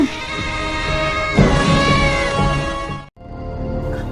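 A cat meows in long, drawn-out wavering cries, close and loud, with a short break near the end before it calls again, in an Ilocano-language drama scene; no one speaks.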